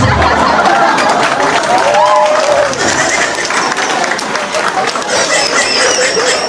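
Comedy audience at a live show in the Philippines claps and laughs together, a dense steady burst of applause mixed with crowd murmur and a few voices.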